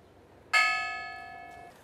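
A single bell strikes once at a Workers Memorial Day ceremony in Pittsburgh, held for those who died in the workplace. The clear, ringing tone starts sharply and decays slowly, heard alone with no talk.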